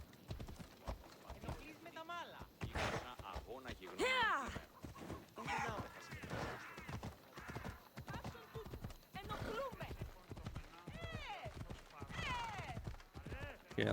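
A horse gallops with steady clip-clop hoofbeats through Assassin's Creed Odyssey, a Greek-era action game, while a person talks over it almost continuously.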